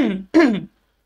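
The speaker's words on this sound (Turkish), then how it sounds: "Özür dilerim bir öksürük geldim." Two short, harsh coughs from a man, close and fairly loud, separated by a brief pause and followed by silence.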